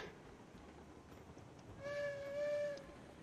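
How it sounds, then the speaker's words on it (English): A single steady train whistle in the video game Railroads Online sounds for about a second, clear but moderately soft over a low rumbling background. "Little victory toot."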